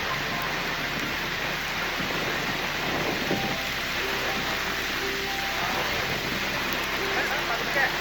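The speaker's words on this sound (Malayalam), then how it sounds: "നല്ല മഴയുണ്ട്." Heavy rain falling steadily on a forest trek at Peechi, a dense continuous hiss of drops on leaves and ground, with faint voices in the background at times.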